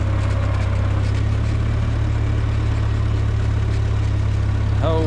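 A tractor engine runs steadily at close range as it is steered down a road, a constant low drone with no talk over it.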